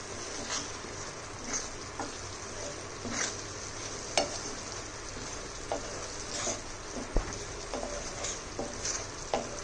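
Fruit peel paste stirred and fried in hot oil, a soft, steady sizzle with faint intermittent spoon scrapes and taps, quiet and close, with no voices.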